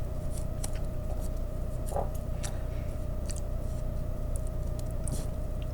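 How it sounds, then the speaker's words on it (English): Scissors snip paper into triangle shapes, a handful of light, close cuts scattered over a constant low background hum. "I'm going to cut another triangle into it this way"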